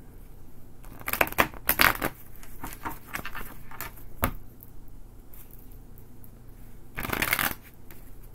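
Tarot cards being riffled and shuffled in quick bursts of crisp, rapid paper flutter, with quieter handling between the louder shuffles; no voice.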